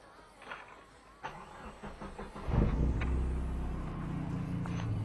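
A modified-exhaust Opel Kadett GSI with a 2-litre 16-valve engine cranks with a few faint clicks, then catches halfway through and settles into a steady, fairly close, rumbling idle.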